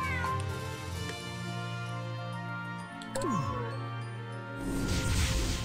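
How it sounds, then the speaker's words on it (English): Cat-like Grimalkin units in the GrimGrimoire strategy game meow repeatedly over layered game music and battle effects, the mewing clear and fairly loud throughout, with a sudden crash of combat near the end. "My Grimalkins, my sweet kitty children."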